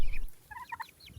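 Month-old farm chicks give a quick run of high, thin peeps and chirps, close by and fairly quiet, over a low background rumble.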